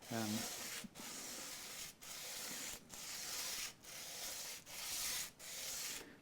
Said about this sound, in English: I'm going to start by sanding it down on here.